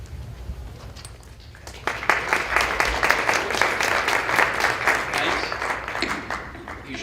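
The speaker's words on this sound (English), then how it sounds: "Usually you should hold your applause until you see what I have to say first" An audience at a women in business conference claps for a keynote speaker, a dense burst of applause that starts after about two seconds and holds steady and close until the end, with a little talk before it.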